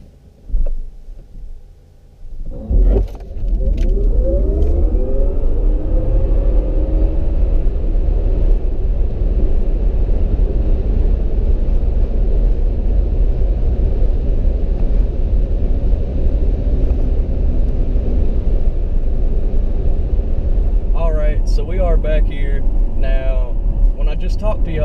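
A Tesla Model S P100D in Ludicrous mode launches for a 0-60 and quarter-mile run, giving a loud sustained electric whine and road rumble that rises in pitch and holds steady for about twenty seconds.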